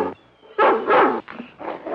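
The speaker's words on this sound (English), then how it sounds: "Oh, that dog, he gives me the jitters." A dog in a 1956 horror film lets out a few loud, rough, growling barks in quick bursts, close by and with no talk over them.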